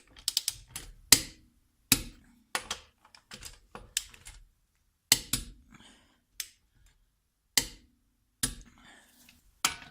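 Torque wrench tightening the wheel lug nuts on a Honda Insight during a front-wheel-drive tire rotation, a series of sharp ratcheting clicks in short bursts with pauses between, close and distinct.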